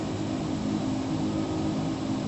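Microsoft Flight Simulator X aircraft engine heard from the outside view, a loud, steady droning roar with a hum that holds unchanged the whole time, no talk.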